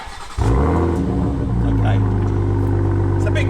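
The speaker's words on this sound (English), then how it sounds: "so if you can start the car initially" Big car's engine fires up from cold at about 0.4 s and settles into a loud, steady idle with a slight rev swell, close to the microphone.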